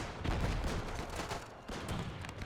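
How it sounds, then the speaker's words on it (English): Dense, continuous volley of rifle fire from many soldiers in the WW1 game Between Empires, a steady crackling barrage that holds loud for the whole stretch with only a brief dip midway. "Well, now you're firing, although in the wrong way."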